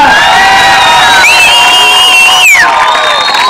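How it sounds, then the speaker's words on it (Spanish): Audience at a seaside show in Mar del Plata cheers and whoops for a contestant, loud continuous crowd noise with shrill voices and whistles riding over clapping, briefly dipping before rising again. "Aplauso para la petiza."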